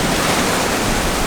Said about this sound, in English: Finally, I am at the Indian Ocean and I see a lot of waves